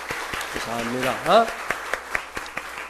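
A church congregation at a Sunday worship service claps in scattered, spaced beats while someone speaks briefly over the applause.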